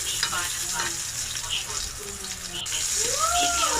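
Garlic and onion sauté in a hot pan, giving a close, continuous sizzle with light stirring scrapes, and a faint whistling tone rises near the end; a voice speaks briefly underneath.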